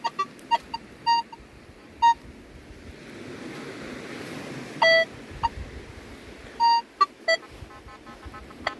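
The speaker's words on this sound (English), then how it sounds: "Now listen to those mixed signals." A metal detector on a beach gives a string of short, uneven beeps at varied pitches, signalling mixed targets, over steady surf and wind.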